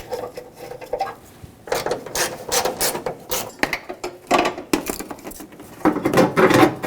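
Hand ratchet backing out the 12mm top hood hinge bolts on a 1995-2004 Toyota Tacoma, a close run of quick metallic clicks and clanks in several bursts with short pauses between, no talking.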